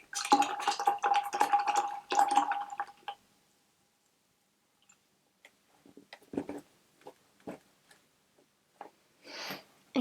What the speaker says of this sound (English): then rinse your brush out